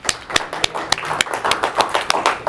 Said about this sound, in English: let's hear a round of applause for the new building